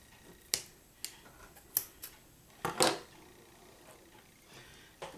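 Scissors snipping kitchen twine off a stuffed pork tenderloin, several sharp separate cuts spaced about a second apart, one longer crunching cut midway, close and clear with no talking.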